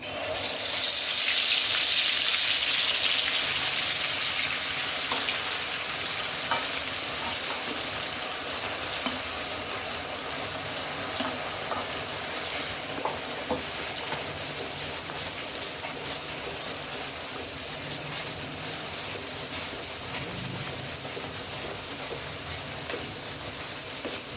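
A paste of coconut, coriander, ginger and garlic fries in hot oil, giving a steady loud sizzle and crackle throughout, with occasional stirring scrapes and clicks.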